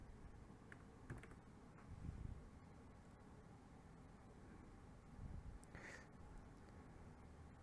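Someone types a search on a computer keyboard, with quiet, scattered key clicks in short bursts over a faint steady background hiss.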